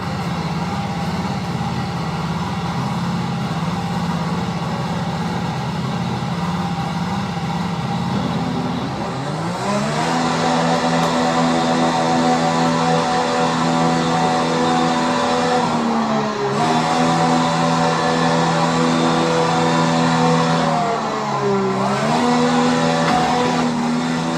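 A race car engine drones steadily through laps in a racing video game, with the pitch dipping and climbing again on gear shifts and corners, loud and continuous with no talking.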